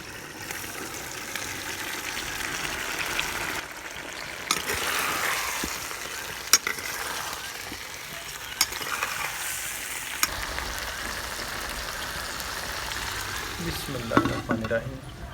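Cauliflower and potatoes for aloo gobi fry in a pan over coals in a village setting, giving a steady, moderate sizzle with occasional sharp clatters and scrapes of stirring and a brief rise in the fizz near the end.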